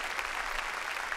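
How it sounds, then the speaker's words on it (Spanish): A congregation claps during a church service, a brief burst of continuous, fairly soft applause from many people with no talking over it. "Denle un aplauso al Rey de Gloria."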